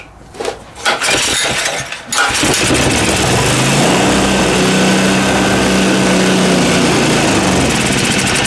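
A free Honda small engine with a carburetor that is not drawing fuel cranks in a few rough bursts, then catches and runs as a loud, steady, buzzing drone close by.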